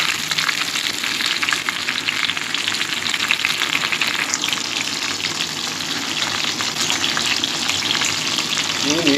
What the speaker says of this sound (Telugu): పసుపు వేసి నీట్గా ఫ్రై చేసుకున్నాం